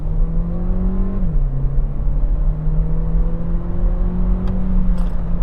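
A Skoda Octavia 1.5 TSI with a seven-speed DSG gearbox accelerates, its engine drone climbing steadily, dipping once at a gear change and then rising again, heard loud from inside the cabin.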